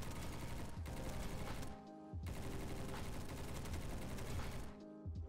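A Shrike light machine gun hip-firing in Roblox Bad Business rattles out two long, dense automatic bursts, loud and close, split by a brief pause.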